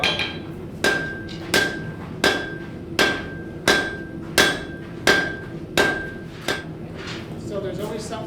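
A blacksmith's hammer striking steel at a forge demonstration, about ten evenly spaced ringing blows, each with a bright metallic ping and a short decay, loud and close.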